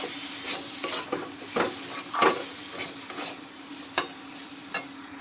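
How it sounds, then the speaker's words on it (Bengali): Pointed gourd frying in a pan with turmeric and salt, a soft continuous sizzle broken by repeated scraping stirs and light utensil knocks against the pan, close and unaccompanied by speech. "দিয়ে এটাকে ভালো করে একটু ভেজে নেব।"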